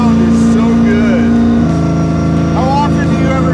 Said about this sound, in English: Those straight cut gears, that sound is so good.